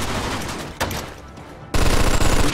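Rapid automatic gunfire in the video game Mafia 2, loud bursts of fast shots, a brief quieter gap, then a sustained close volley.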